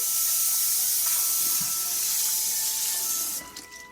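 Sea moss is rinsed under running water, a steady splashing tap stream that eases off near the end, with no talking.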